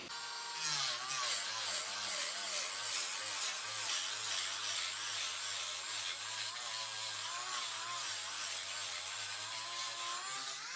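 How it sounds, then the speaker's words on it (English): A high-speed rotary tool grinds and sands an EVA foam Mandalorian helmet piece, producing a continuous whining buzz whose pitch wavers as the bit presses into the foam, steady and close for the whole stretch. "Again, I'm just gonna clean all this up with a rotary tool."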